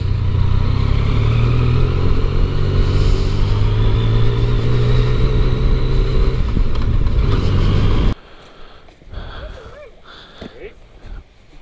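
A Yamaha MT-09 Tracer motorcycle rides along with a loud, steady engine drone and heavy wind rumble for about eight seconds, then cuts to a much quieter, softer passage.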